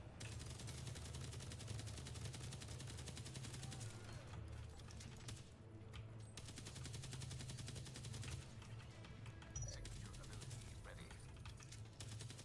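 Gunfire in The Division Resurgence video game rattles in fast, continuous bursts under loud music and game sounds, with a person talking over the fighting.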